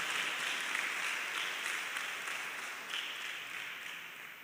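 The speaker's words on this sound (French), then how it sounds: "On va applaudir les parents aussi." A crowd applauds the parents of top exam candidates at a reception in Benin, a continuous bright wash of clapping that stays fairly even and then tapers slightly toward the end.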